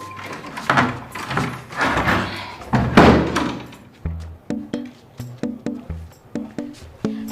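A stiff door is shoved and knocked in a burst of heavy thumps and rattles, then a run of sharper, evenly spaced knocks and clacks.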